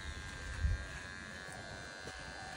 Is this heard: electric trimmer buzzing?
yes